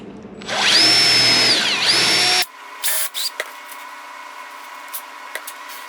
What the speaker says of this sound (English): Let's see if I can drill it left-handed.